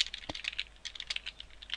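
Quick bursts of typing on a computer keyboard while code is entered, sharp close clicks in an uneven rhythm with no voice.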